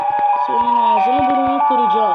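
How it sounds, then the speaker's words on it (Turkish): A wavering electronic Siren Head siren tone in Minecraft rises and falls continuously while someone speaks loudly over it, with sharp clicks and thumps from gameplay. "Arkadaşlar şu siren sesine bakar mısınız?"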